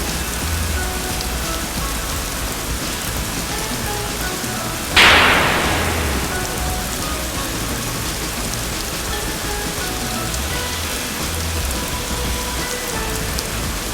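Rain falls steadily during a passing shower on a sunny day in Southern California, a continuous close hiss of drops on surfaces with one brief louder splash midway and no voices.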